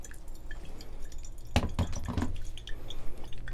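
Coffee drips steadily during a side-by-side drip brew, a quiet run of small liquid drops and trickles that grows busier midway, close by with no talk.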